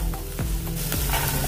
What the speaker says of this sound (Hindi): थोड़ी देर भूनेंगे इसको भी।